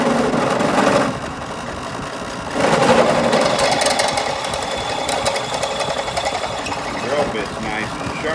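Drill bit cutting into a metal EGR block-off plate, a close, steady grinding whine that stops briefly and resumes with more force, amid workshop noise.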